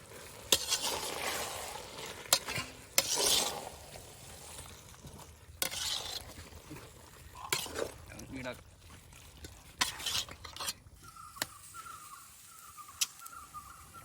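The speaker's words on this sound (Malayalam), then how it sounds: "നമുക്ക് മസാലയിലേക്ക് ചിക്കൻ ഇട്ട് കൊടുക്കും. നല്ലോണം ഒന്ന് ഇളക്കാം." Chicken pieces being stirred into masala in a pan for a village-style chicken biryani: a series of scraping, clattering spoon strokes and light sizzle, fairly close, broken by pauses, with a voice speaking at times.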